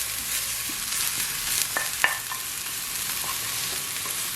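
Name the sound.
onion and garlic frying in a pan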